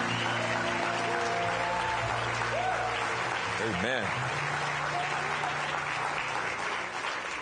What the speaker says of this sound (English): give the Lord a big hand clap of praise